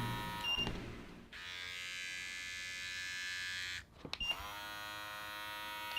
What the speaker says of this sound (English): Let's bump it up to 7. Hear that? Listen to the tone of the trimmer.